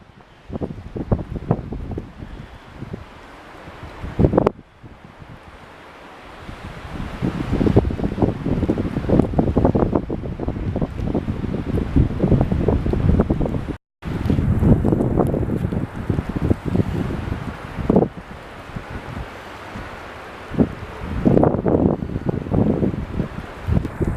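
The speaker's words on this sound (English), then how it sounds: "Let's see that wind." Strong nor'easter wind gusting through a whiteout snowstorm, a loud continuous roar with rushing surges and buffeting against the microphone, varying in strength over time.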